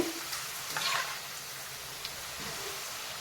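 Potato peels frying in a pan with oil for a crispy snack, giving a soft, faint crackle and sizzle with a few light stirring clicks, heard alone without speech.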